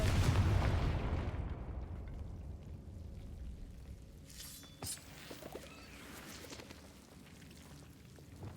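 A Confringo fire spell in Hogwarts Legacy bursts in a single heavy explosion that fades into crackling debris and a few small pops, fairly faint overall.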